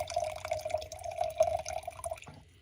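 Hydrogen peroxide is poured into a container in a thin, steady trickling stream that splashes lightly for about two seconds, then stops abruptly.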